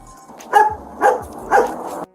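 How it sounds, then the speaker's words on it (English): A police dog barks from inside a police car during an arrest, three loud, evenly spaced barks at roughly half-second intervals, close and clear with no talk over them. "The dog started barking as soon as he said there's a canine in there"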